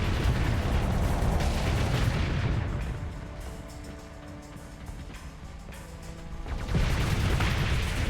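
Antimatter blasters fire in the Starsector space combat game, a dense roar of booming shots and explosions that eases to a quieter hum midway before the heavy barrage surges back, with no talk.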